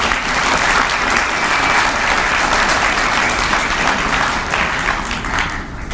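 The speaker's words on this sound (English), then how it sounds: "may I request that we have a round of applause for a job well done for George, please." An audience applauds at a STEM leadership awards ceremony, dense sustained clapping filling the room for the whole stretch and easing slightly at the end.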